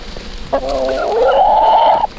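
A single drawn-out call from a turkey or chicken, rising and warbling for about a second and a half, loud and close with no talking.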